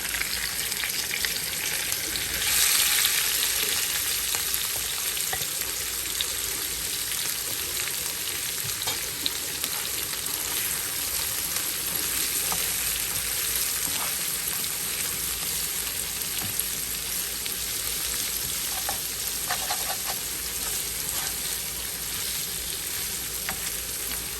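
Onion frying in a pan for a stir-fried greens dish with beans and potato, a steady broadband sizzle lasting throughout with occasional stirring scrapes and small pops, close and fairly loud with no talking.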